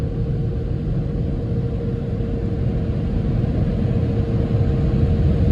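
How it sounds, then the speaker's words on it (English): Car wash air blowers drying a car roar loudly and continuously nearby, a steady rushing blast with a faint whining tone running underneath. "They blow the air actually. They dry the car."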